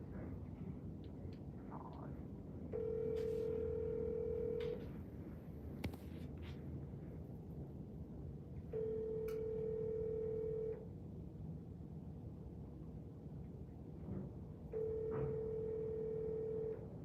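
Three evenly spaced telephone ringing tones, each about two seconds long, sound over a low background hum as a call rings before going to voicemail.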